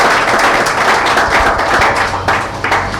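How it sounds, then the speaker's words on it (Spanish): A church congregation applauds during a Sunday service, with dense, steady clapping from many hands close by filling the whole stretch and continuing without a break. "dése un fuerte aplauso a usted y a las personas nuevas que nos visitan"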